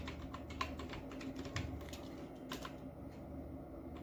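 Rapid, steady typing on a computer keyboard while writing Python Pandas code, close and fairly quiet, a continuous patter of key clicks over a low background hum with no talk.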